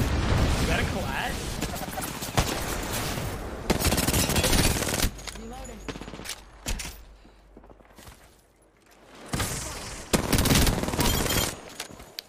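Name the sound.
gunshots, two headshots in Apex Legends video game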